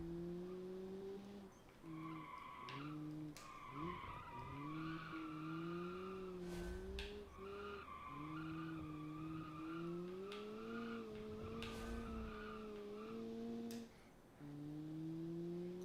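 A car in the BeamNG racing game skids under the handbrake, tyres squealing in long wavering tones over a droning engine, with brief breaks between bursts.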